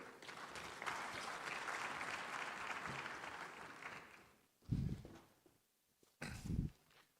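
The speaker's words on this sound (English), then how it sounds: "Another round of applause for Ambassador Albert Muchanga of the African Union Commission there, kicking us off." An audience at the 2023 Afreximbank Annual Meetings conference applauds for about four seconds. The clapping then fades, and a few soft thumps and handling noises follow.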